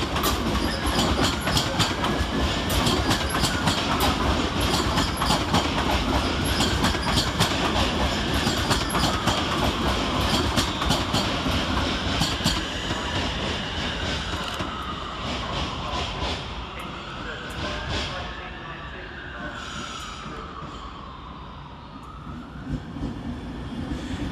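Class 350 electric trains depart London Euston station with rhythmic clickety-clack over the rails and a rising and falling motor whine, loud at first and fading away.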